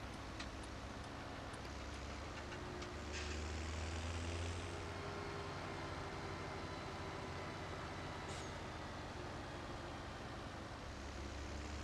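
A Deutz-Fahr tractor engine in a farming video game drones steadily and loudly throughout, a dense continuous rumble with a low tonal hum and faint whining layers, no talking.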